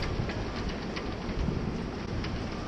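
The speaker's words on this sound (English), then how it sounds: "Can you hear this wind?" Wind roaring steadily around a sailing vessel, a dense, broad rushing noise with gusty swells and no voices.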